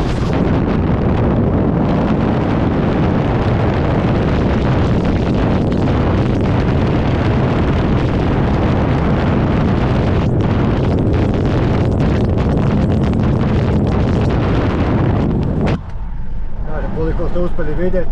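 Wind rushes through an opened car window at motorway speed, a loud buffeting roar that fills most of the stretch before suddenly dropping away near the end, with a voice talking over it.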